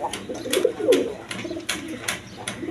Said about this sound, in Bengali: এখানে এক পেয়ার শার্টিং কবুতর আছে দেখেন